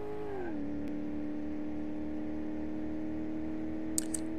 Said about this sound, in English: this thing's engine sound though.